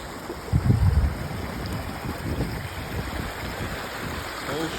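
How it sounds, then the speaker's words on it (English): Floodwater from melting snow and rain rushing below a pond overflow, a steady broad roaring wash of water, close and continuous, with a brief louder splash near the start. "Whole stream of water right there."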